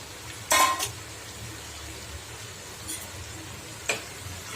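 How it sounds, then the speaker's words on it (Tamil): Cut bread pieces dropped into a simmering chilli sauce in a pan and stirred in, a low bubbling bed with a few brief scraping and clattering stirs, close and moderate in level, no talking. "இப்போ கட் பண்ணி வச்சுருக்க ப்ரெட் பீஸை இதில் சேர்த்துடலாம்"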